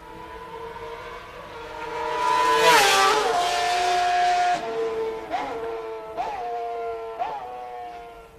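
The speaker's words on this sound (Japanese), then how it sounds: "もう一回じゃあここで RC166 の音を、お聞きください。" A Honda RC166 racing motorcycle engine wails loudly at high revs, climbing to a shrill peak, then drops and revs up again in several quick bursts as gears shift.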